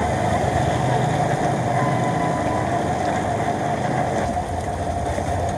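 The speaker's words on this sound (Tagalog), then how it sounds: "Mga tropa, bigla pong lumakas pong ulan." Heavy rain pouring down and suddenly intensifying, a loud, dense, steady hiss drumming on nearby surfaces with no pause.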